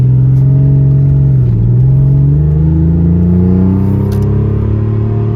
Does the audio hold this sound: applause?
no